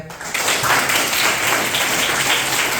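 Fourth-grade schoolchildren applaud together in a classroom during a Women's Day question-and-answer session, a full, loud burst of clapping that stays steady throughout.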